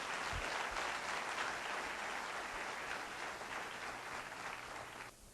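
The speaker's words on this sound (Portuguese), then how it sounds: "Louve a Jesus com as suas palmas." Church congregation clapping their hands in praise, a continuous, fairly distant patter of many hands that stays even throughout and cuts off at the end.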